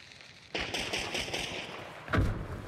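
Bursts of automatic gunfire ring out in a video game, a rapid rattling series starting abruptly and continuing, with a heavier thump near the end, close and fairly loud over a low background.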